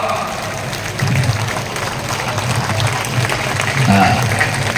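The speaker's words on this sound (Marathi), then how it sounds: "जोरदार टाळ्या वाजवा" A crowd applauding loudly at a political party induction ceremony, dense sustained clapping that swells after the first second, with voices mixed in.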